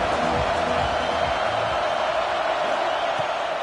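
Football stadium crowd at a Texas A&M game, a dense steady roar of many voices filling the clip, with a commentator's voice faintly over it.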